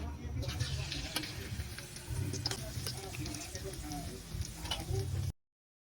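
Tofu seasoned with salt, pepper and seasoning mix frying for sisig, a dense continuous sizzle with light clicks and stirring, close and fairly loud before cutting off abruptly.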